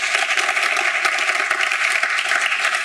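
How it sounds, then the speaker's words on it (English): Audience at a healthcare cyber defense talk during Cyberweek in Tel Aviv claps hands steadily, a dense, even patter of many palms with no voices over it. "You can clap your hands, guys"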